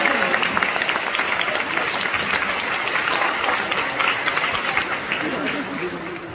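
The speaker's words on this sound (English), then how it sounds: "A round of applause for your parents," A crowd at a school prom claps steadily and loudly for several seconds, applause sustained evenly before tapering slightly at the end.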